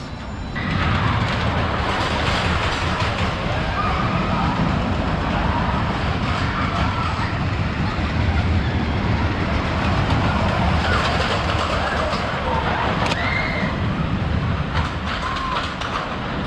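Giant Dipper, a 101-year-old wooden roller coaster at the Santa Cruz Beach Boardwalk, in a steady, loud rumbling clatter of cars on the track that carries on unbroken through the whole ride, with faint voices buried in the roar.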